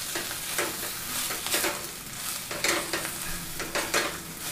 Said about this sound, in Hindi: सारी चीज़ों को मिक्स कर लेते हैं।